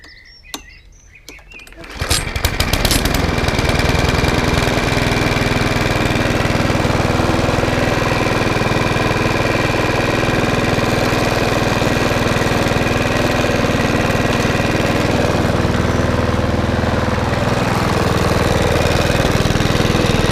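A Mountfield lawnmower engine starts with a short pull and then runs at a steady, loud, close drone, with faint birdsong in the background.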